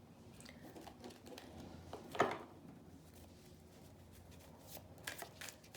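Tarot cards shuffle softly in the hands during a reading, a faint papery riffling and patter with one brief sharper snap midway, no voice over it.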